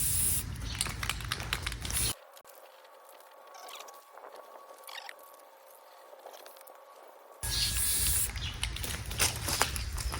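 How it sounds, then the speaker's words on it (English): Aerosol spray paint hisses in bursts while a toolbox is coated, loud broadband spraying at the start and end with a quieter stretch between. "It's just spray paint."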